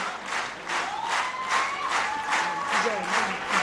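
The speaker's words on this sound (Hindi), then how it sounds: "तालियां रुकने मत दीजिए, तालियों का सिलसिला बना रहना चाहिए।" A crowd at a large marketing event claps in a steady, rhythmic pulse, with faint cheering tones drifting over the sustained applause.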